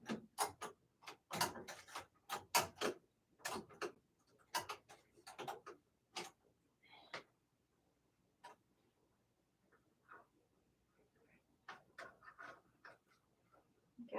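An embroidery machine stitches out a programmed design, giving a run of sharp, rapid mechanical ticks in uneven bursts with brief pauses, close by and fairly loud, with no talking.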